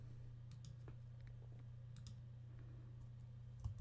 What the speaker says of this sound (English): I'm also trying to type on a keyboard that's hidden by the mic.